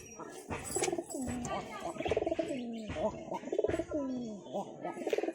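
A pair of homing pigeons coos repeatedly in rolling, swooping calls close by, with a few sharp chirps mixed in and no talking.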